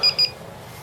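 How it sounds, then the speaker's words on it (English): Two short electronic beeps from the drive of an Atari Falcon 060 computer sound in quick succession, followed by a faint background hum. "That beeping was the drive"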